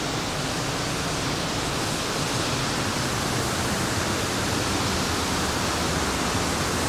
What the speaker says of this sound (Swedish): Härligt vattenfall.